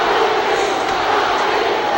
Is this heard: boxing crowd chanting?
yes